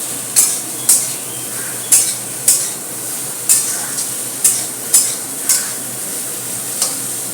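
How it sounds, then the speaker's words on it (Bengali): Food frying in a pan sizzles steadily while a utensil stirs it, scraping and clinking in repeated strokes about once a second over the constant hiss. "এবার ভালো করে নেড়ে নিতে হবে।"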